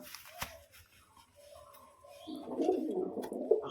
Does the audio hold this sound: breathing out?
no